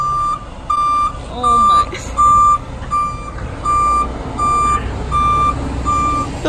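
A fire truck's reversing alarm beeping in a steady, evenly spaced series of loud tones, with a person talking briefly over it and street noise underneath.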